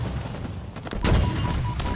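A rocket launcher firing in Halo Infinite, a sharp blast followed by a heavy booming impact, loud and close, with other weapon shots around it.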